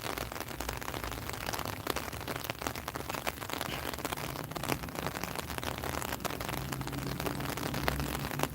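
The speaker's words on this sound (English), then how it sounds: "Oh god, it's raining harder." Heavy rain pours down at a freight depot, producing a dense, constant hiss of drops striking surfaces with scattered sharper spatters, steady and fairly faint throughout with no voices.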